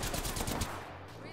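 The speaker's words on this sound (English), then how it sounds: "I'm being shot at" Dense automatic gunfire in the video game Apex Legends, a rapid burst of loud shots that stops partway through, leaving a lower steady rumble.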